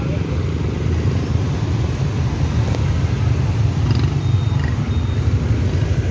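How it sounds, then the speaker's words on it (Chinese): Dense night street traffic on Nguyen Hue Street in Ho Chi Minh City on Christmas, with many motorcycles giving a continuous low engine rumble and drone, and crowd voices murmuring under it. "这么多摩托车"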